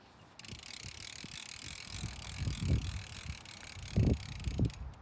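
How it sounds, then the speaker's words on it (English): A Treasure Garden market umbrella is cranked open outdoors, with soft, irregular ratcheting clicks and dull mechanical thumps under light wind noise. "Now you just want to test it out by cranking it all the way up."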